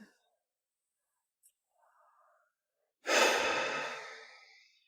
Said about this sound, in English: He slows his breathing.